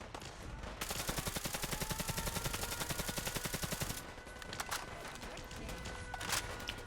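AK rifle gunfire in the Fallout 4 video game during a settlement battle: a rapid, evenly spaced burst of loud automatic shots lasting about three seconds, followed by scattered single shots and impacts.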